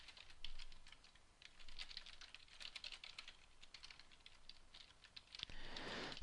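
Fingers type on a computer keyboard in quick, uneven bursts of soft clicking, faint and close, with a heavier key press near the end and no voices.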